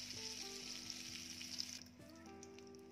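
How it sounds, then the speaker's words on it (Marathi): Butter and oil heating in a pan give a soft, steady sizzle, faint and continuous, under a low background hum. "तर इथे मी बटर आणि तेल गरम करून घेते।"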